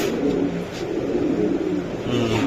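Soft cooing of a racing pigeon murmurs steadily beneath a dense, noisy background hum, with no clear talking.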